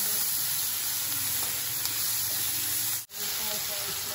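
Vegetables with onion and capsicum fry in a pan for a Maggi vermicelli snack, making a continuous close hiss and sizzle with a brief dropout near the end.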